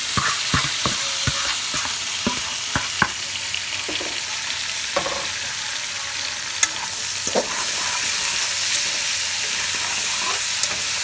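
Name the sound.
vegetables frying and stirred with corned pork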